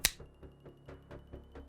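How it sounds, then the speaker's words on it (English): A single sharp finger snap right at the start, followed by a soft, regular beat of low thumps. "Maybe even snap my fingers for a coffee?"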